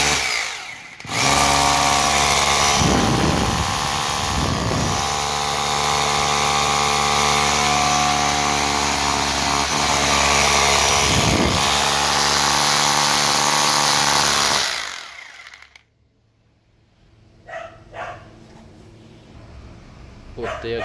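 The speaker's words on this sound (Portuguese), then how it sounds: "Testar ela furando aí pra vocês verem. Olha aí, galerinha, ela furando." A Bosch GBH 2-24D rotary hammer drills loud and close in one continuous whining, rattling run of about fourteen seconds. It cuts off abruptly, and quieter scattered knocks and movement follow.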